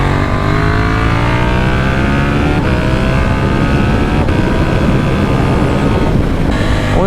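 A Yamaha Niken motorcycle revs hard on a race circuit, its engine note climbing through the gears, loud and close with rising harmonic sweeps and brief dips at each shift, with no voices over it.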